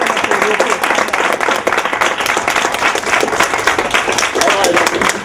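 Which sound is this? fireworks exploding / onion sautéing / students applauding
students applauding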